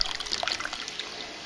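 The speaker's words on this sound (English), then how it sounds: "I like to crank up the grow bed supply line to flush any sediment that is building up in the piping" Water flushes through the supply line of an aquaponics grow bed inside a geodesic dome, a soft close trickle and dribble with scattered light splashes running steadily throughout, with no voices.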